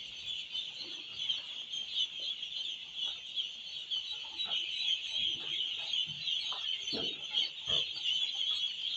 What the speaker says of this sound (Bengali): এখানে হাঁসের বাচ্চা 1000 পিস।